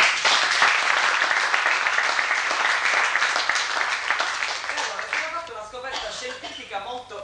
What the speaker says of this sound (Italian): che accogliamo con un applauso.